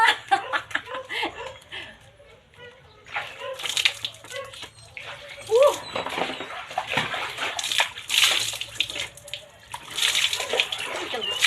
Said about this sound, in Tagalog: Magtampisaw ta sa planggana.